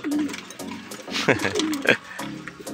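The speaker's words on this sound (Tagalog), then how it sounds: "Ay, may kalapati pa." Low pigeon coos repeat a few times at close range, mixed with murmuring voices and some background noise.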